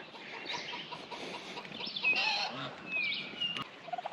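Young farm turkeys gobble and chatter at moderate distance, with several rapid warbling calls overlapping and a quick clucking burst at the end, over a soft outdoor background.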